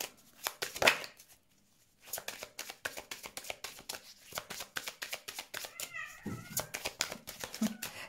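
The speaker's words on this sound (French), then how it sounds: "Je sais pas si vous entendez mes chats," Pet cats play and chase each other with a toy around an apartment, producing rapid scattered scrabbling, patters and taps, a faint meow among the clatter.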